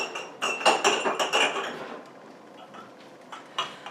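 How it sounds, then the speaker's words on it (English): Glass half-pint jam jars being moved onto a counter, a quick cluster of clinking and knocking glassy taps early on, then quieter with a couple of later clinks, close by. "I am going to move my jars over to the counter."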